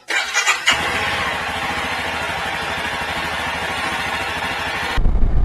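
A Triumph America motorcycle engine cranks briefly, then catches and settles into a steady, loud, close idle on a cold winter day in Ontario, running evenly for several seconds.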